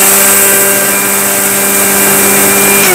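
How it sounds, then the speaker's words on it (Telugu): A kitchen mixer grinder whirs loudly and steadily as it grinds semolina and vermicelli, a constant high motor whine that runs without a break and cuts off right at the end. "ఈ రెండింటిని నీట్గా మిక్సీ పట్టేసుకోవాలి"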